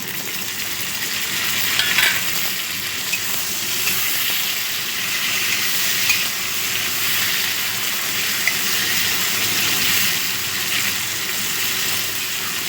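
Tomatoes hit fried onions in a pan for masoor dal, setting off a loud, steady sizzle and hiss with stirring scrapes running through it, close and without talk.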